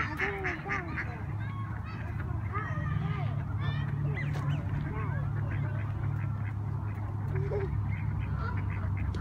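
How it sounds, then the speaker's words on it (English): Muscovy ducks quack repeatedly at close range in an outdoor pen, their calls overlapping and running steadily through the whole stretch over a low background hum. "These right here are Muscovy ducks."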